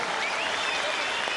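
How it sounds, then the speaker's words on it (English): Crowd applause rings out after a boxing fight between Alex Arthur and Steve Foster Jnr, a dense steady clapping that stays loud throughout the short stretch. "Ladies and gentlemen, a round of applause for both boxers who gave their all."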